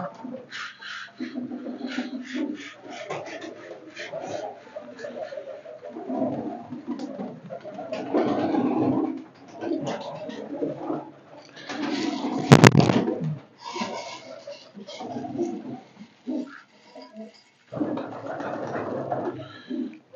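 Pigeons cooing in low, throaty bursts over a busy mix of rustling and background noise, with one sharp click partway through.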